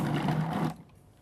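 Cuisinart Elite 14-cup food processor mixing dough, a steady close motor whir that cuts off abruptly, leaving quiet room tone.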